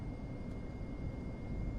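The engines of a Leonardo MD-82 airliner in Microsoft Flight Simulator 2024 produce a dense, steady roar with a constant low rumble and hiss, filling the whole clip without pauses.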